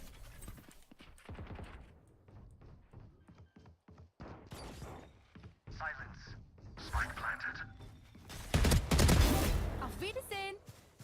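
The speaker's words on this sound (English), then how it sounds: "Swarm grenade out." Swarm grenades firing in the Valorant video game, heard as bursts of rapid popping shots and crashes scattered through a busy match, with people talking over them and a loud burst building near the end.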